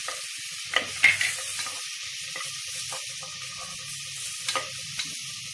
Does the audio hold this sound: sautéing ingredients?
yes